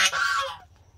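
Farm geese kept in a fenced pen with their eggs let out a loud, harsh honk up close, a burst that fades within about half a second into quieter background.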